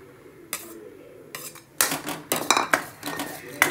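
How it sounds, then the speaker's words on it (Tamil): A spoon clatters and scrapes against a metal kadai while 100 grams of urad dal flour is added and stirred for roasting, producing sharp clinks and knocks that come in quick clusters after a quiet start; no voices are heard. "அதுக்கு ஒரு கடாயை ஹீட் பண்ணி அதில் நம்ம எடுத்து வச்சுருக்கிற அந்த 100 கிராம் உளுந்த மாவை ஆட் பண்ணி"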